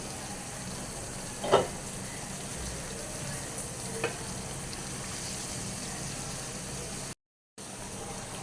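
Taro stolons and dried fish stirred in a pan over low heat, a continuous soft sizzle with a couple of brief utensil clinks, steady and close, with no talking.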